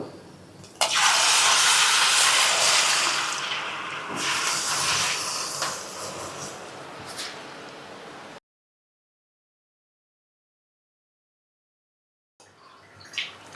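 Chakralu, a Telugu fried snack, sizzle loudly as they drop into hot oil, a dense steady hiss that slowly eases for about eight seconds, then silence before a fainter sizzle returns at the end.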